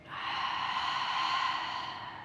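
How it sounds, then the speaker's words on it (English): A steady exhalation through the mouth during a guided restorative movement and breathing exercise for landscapers, one long continuous breathy rush lasting about two seconds, close and even in level, with no talking over it. "and breathing out."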